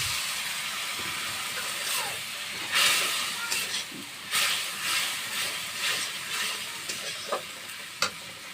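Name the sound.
water poured into hot sautéed spice paste, hissing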